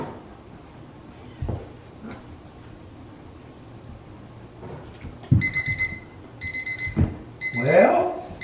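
A kitchen timer alarm beeps in three short bursts of electronic ringing, fairly clear over quiet room noise with a few soft thumps and rustles around French Bulldog puppies.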